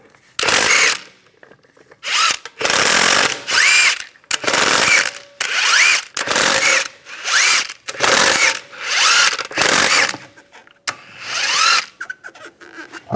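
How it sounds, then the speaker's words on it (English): An impact wrench spins 22mm lug nuts off a Cadillac SRX wheel in repeated loud, close bursts of about a second each, separated by short pauses. "Use a 22mm socket, take the lug nuts off."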